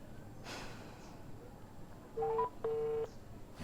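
A telephone keypad sends two steady dialing tones, one short and one longer, close and clear against a soft background hiss, with a faint breath just before.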